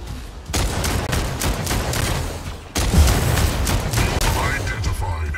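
Mech gunfire in the Mech Arena video game, with dense continuous rapid fire and booming impacts filling the scene, a brief lull and then a louder renewed barrage.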